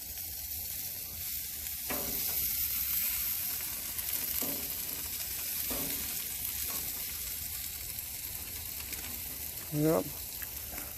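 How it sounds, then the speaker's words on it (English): Sauce-brushed food sizzles steadily on a grill, with soft scraping taps from flipping and brushing and a brief word spoken partway through. "Let it cook for a bit, flip it again, brush it with some more sauce, both sides, remove it."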